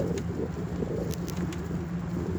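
Pigeons at a bird feeding spot coo repeatedly in low, soft bursts amid a steady outdoor murmur, with a few faint higher chirps in the background.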